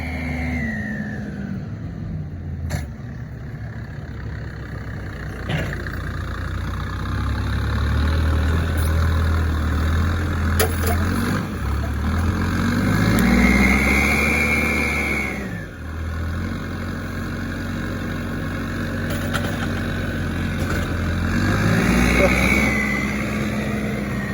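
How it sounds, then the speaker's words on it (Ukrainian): A Komatsu farm machine revs its engine, rising and falling, with a high turbo whistle swelling on the revs, close by, while people talk over it. "Турбінка свистить то, що треба."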